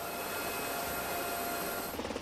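A Coast Guard search-and-rescue helicopter with four 38-foot composite rotors and two 680-horsepower Lycoming engines, heard as a steady, loud, broadband rotor and engine roar that holds throughout with no voices.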